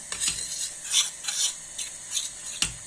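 A spoon stirs corn flour as it toasts in a pan with butter, making a series of soft, rhythmic scraping strokes close by with no talking.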